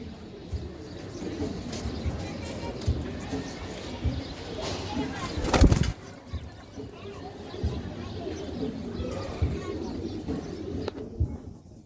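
A pair of Giribaz flying pigeons coo softly beneath ongoing talk and general background bustle, with a louder burst of noise near the middle.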